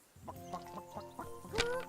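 A chicken clucks in the medieval role-playing game Kingdom Come: Deliverance II, a run of six or seven close, rhythmic clucks ending in a louder, sharper squawk.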